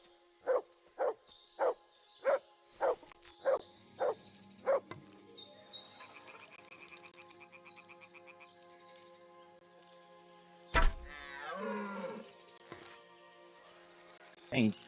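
Mutt, the dog in Kingdom Come Deliverance 2, gives a run of eight evenly spaced barks, close and clear, followed by quieter ambient sound and a later yelp.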